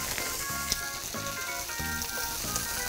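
Lamb ribs sizzle in a frying pan over high heat, a continuous bright crackling hiss that stays close and steady throughout, with faint rhythmic tonal pulses underneath.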